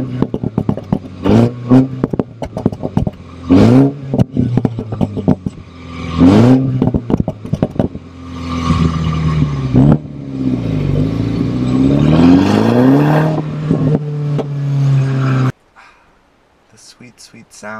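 A Mini Cooper F56 with its stock exhaust, set to sport mode, blips its engine several times and then holds a rising rev toward about 4,000 RPM. It sounds loud and close before cutting off sharply.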